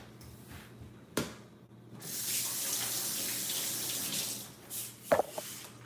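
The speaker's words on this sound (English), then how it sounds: "Add a little water in it. Let me just drain it out." A kitchen tap runs steadily over chicken breast for a couple of seconds, bracketed by brief knocks and clatter, then the flow stops.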